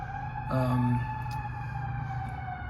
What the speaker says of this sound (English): Little siren going in the background there.